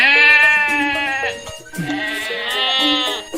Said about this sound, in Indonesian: Wah, kambing sama sapinya besar-besar ya